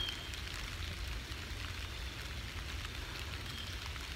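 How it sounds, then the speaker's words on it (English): Steady rain patters nearby with a soft continuous hiss and faint scattered drops, low and even throughout. "It's starting to rain."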